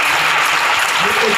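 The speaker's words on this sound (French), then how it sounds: "D'autres sont en train d'acclamer, d'autres sont en train de regarder ceux qui acclament." A church congregation applauds and cheers during an evening preaching service, a dense, loud wash of clapping and crowd noise throughout.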